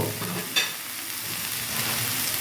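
Ginger and mixed vegetables sizzle steadily in a hot pan for vegetarian cooking, with a brief clink of stirring early on over the constant close frying hiss.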